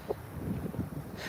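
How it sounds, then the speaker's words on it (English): Wind blowing across a fishing boat in Oklahoma, a steady low buffeting rumble hitting the microphone close up, with no voices. "It's really not that windy for Oklahoma, to be honest. It's pretty regular wind."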